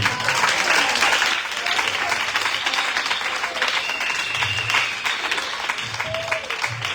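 A church congregation applauds loudly and continuously, dense close clapping with crowd voices mixed in for the whole stretch.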